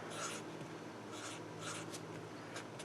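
Marker or chalk strokes land on a board during a calculus class on logarithms, a few short scratchy bursts spaced apart, faint and close, without talking.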